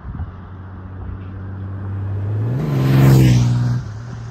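A 2023 Honda Goldwing Tour DCT motorcycle in sport mode accelerates hard, its engine note climbing in pitch, peaking loud with a whoosh past the microphone, then easing off.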